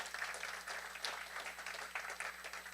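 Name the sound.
applause for the finalist judges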